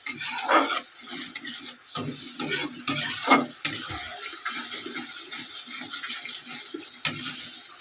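Egg curry ingredients frying in a pan, with a close, uneven sizzle broken by clattering stirs and scrapes. No voices are heard.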